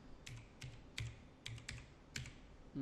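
Keystrokes on a computer keyboard typing a Windows system file check command, about eight separate clicks in an uneven rhythm, quiet and close with no voices.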